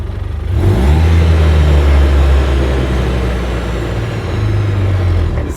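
A UTV engine with a hanging throttle, revving loud and steady near the microphone, its pitch rising and holding high with only slight dips.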